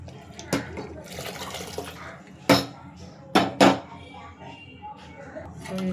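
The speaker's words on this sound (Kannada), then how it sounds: "ನೀರು ಹಾಕ್ಕೊಳ್ಳೋಣ." Water is added to a pot of rasam made with cooked tomatoes, with a few sharp splashing bursts and clinks of the pot between quieter kitchen sounds, close by.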